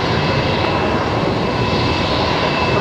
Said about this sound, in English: that's a Max 8 actually.